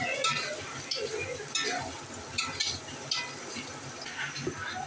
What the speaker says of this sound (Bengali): পেঁয়াজ ভাজতে অনেক সময় লাগে